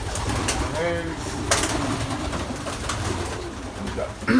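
Birds at feeding time with breeding pairs nearby, cooing in low, throaty calls against a steady rumble of background noise and a soft murmur of a voice.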